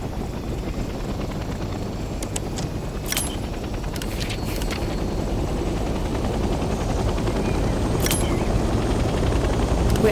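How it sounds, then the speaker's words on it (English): A helicopter in the Hell Let Loose Vietnam video game starts up, its engine and rotors building into a steady, loud whine and thrum, with a few sharp clicks and brief bursts on top and no talking. "Let's start by getting in the pilot seat and turning the engine on."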